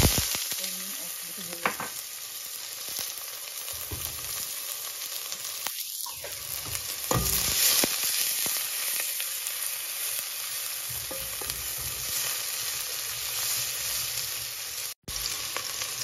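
Ingredients fry and sizzle in hot oil in a pot while okra and meat stew is cooked, a steady crackling hiss running the whole time with occasional stirring clatter and brief utensil knocks.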